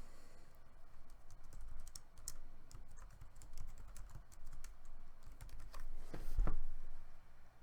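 Rapid clicking of keys on a computer keyboard as a password is entered, a dense run of light taps throughout, close and fairly quiet, with no voices.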